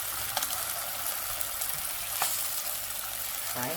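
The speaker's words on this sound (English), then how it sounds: "frying my tomatoes." Tomatoes frying in a pan over a gas flame give a steady close sizzle and crackle throughout, with a faint scrape near the end.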